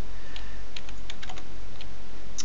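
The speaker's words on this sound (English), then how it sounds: "So I'm going to type in configure" Scattered keystrokes on a computer keyboard while typing a switch configuration command, a handful of crisp, close clicks in an uneven rhythm with short gaps.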